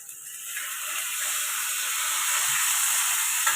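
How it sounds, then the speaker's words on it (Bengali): Onion and tomato fry together in a pan with a steady sizzling hiss that grows slightly louder, with a faint scrape near the end. "ভাজা হয়েছে পেঁয়াজটা, এর মধ্যে টমেটোটা দিয়ে দিলাম"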